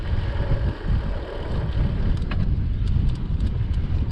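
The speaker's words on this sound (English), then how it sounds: "And the wind." Steady wind buffeting the microphone while cycling beside the tidal Blyth River on a cycle route, a continuous low roar with gusty swells and no talk.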